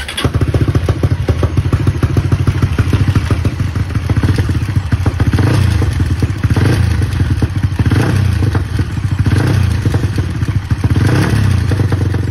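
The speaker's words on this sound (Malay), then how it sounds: "korang dengar dia punya bunyi enjin kasar gila" A Modenas Vf3i motorcycle engine runs roughly and loudly throughout, with a steady low rumble and uneven knocking, clattering thuds.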